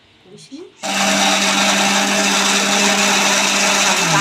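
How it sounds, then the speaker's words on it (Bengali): A kitchen mixer grinder starts up and runs loud and steady with a constant high whir, grinding tomato, green chilli and ginger into a masala paste, after a few faint clicks and handling sounds. "কাঁচা লঙ্কা থাকার জন্য আমি মিক্সিতেই করে মশলাটা সব মশলাগুলো মিক্সিতেই করি"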